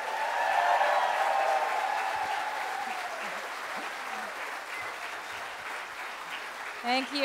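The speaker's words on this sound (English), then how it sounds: "What an applause" A conference audience applauds, a steady broad roar of clapping that fills the room and slowly thins, with a voice talking faintly over it and a brief vocal sound at the very end.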